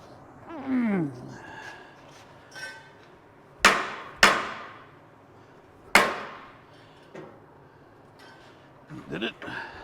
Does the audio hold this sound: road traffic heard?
no